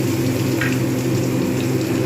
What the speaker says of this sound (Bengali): এই তেলেতেই আমি পেঁয়াজটা ভেজে নেব।